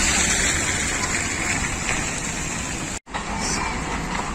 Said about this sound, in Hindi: बारिश हो रही है सुबह से, आज मानसून की बाकायदा पहली बारिश